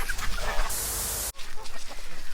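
Geese in a backyard pen honk and cackle continuously, close and fairly loud, with a burst of high-pitched noise partway through.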